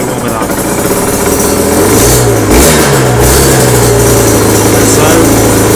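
Aprilia RS125 two-stroke motorcycle from 2011, full-power version, revving in a short burst while warming up, loud and close with a steady buzzing drone that rises in pitch midway before settling back.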